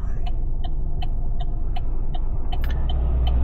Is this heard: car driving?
yes